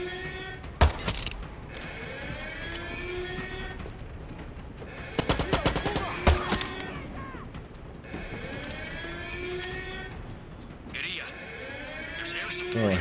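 Gunfire in the video game Far Cry 6, several sharp bursts of shots in quick clusters over game sounds, with someone talking through most of it.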